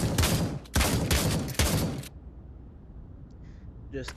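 Three loud, close shotgun blasts in the Pavlov VR game fire in quick succession, each with a booming tail, followed by quieter mechanical handling clicks.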